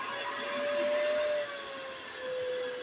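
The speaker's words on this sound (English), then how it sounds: "Every time that vacuum bogs down a little bit" A vacuum cleaner runs off an EcoFlow River 2 Pro portable power station, bogging down slightly under load: a steady, close droning whine that holds for the whole stretch with no talking.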